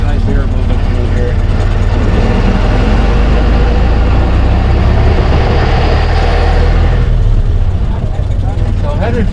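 A Ford Model T, the early car introduced in 1908, runs steadily through a ride around Greenfield Village, its low engine rumble and road noise loud and continuous, with a brief dip in the higher clatter near the end.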